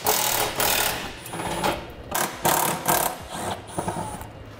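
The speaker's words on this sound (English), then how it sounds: "Now we can take an 8mm and remove the 3 small bolts holding in this heat shield." An 8mm socket on a ratchet or driver spins out the small heat shield bolts under a 2014 Ford Edge, giving several short, buzzy mechanical bursts separated by brief pauses. No one speaks.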